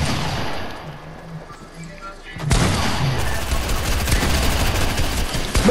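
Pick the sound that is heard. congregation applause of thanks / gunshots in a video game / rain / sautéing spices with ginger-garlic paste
gunshots in a video game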